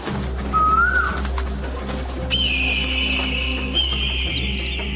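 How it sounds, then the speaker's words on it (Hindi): An Asian koel calls in the morning, giving a rising whistled note and then a long sustained high call over a steady low hum, fairly close and clear. "दूसरे दिन सुबह में कोयल आकर कूकने लगती है"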